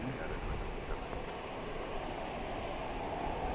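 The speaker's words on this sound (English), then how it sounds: "Alaska Flight 550 to Seattle is a MAX 9" An Alaska Airlines Boeing 737 MAX 9 jet airliner at DFW Airport at night produces a steady, moderately distant engine rumble throughout, with no distinct peak.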